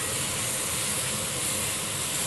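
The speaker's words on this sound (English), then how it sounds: "now we need a little bit of liquid in here to help this steam" Liquid hits a hot pan of beef and broccoli, raising a loud, steady, broadband sizzle and steam hiss that holds throughout.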